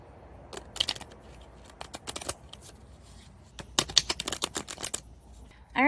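A deck of playing cards, waterlogged at some point, being shuffled in two close, crisp bursts of rapid riffling flutters separated by a quiet pause.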